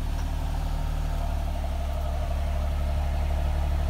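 A 2020 Nissan Maxima SV engine runs steadily with a deep, continuous rumble and no talk over it.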